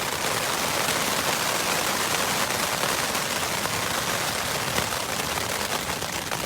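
Hail falling on a tent during a thunderstorm on a hike: a dense, continuous pelting of hard hits on the fabric, loud and close, with no talk.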